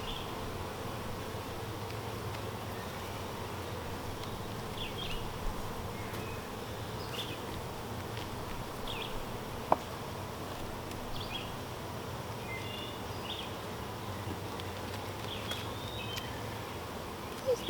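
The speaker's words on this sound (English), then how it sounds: "These bees really don't like it when I get into this bottom box." Honey bees buzzing steadily during a hive inspection, a dense continuous hum close by for the whole stretch, with faint rustling and a sharp click partway through.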